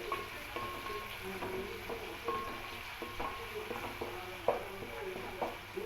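Onions with ginger-garlic paste frying in hot oil as the base for mutton biryani, giving a faint, continuous sizzle broken by soft scrapes and light stirring clatters, heard close but quietly with no voices.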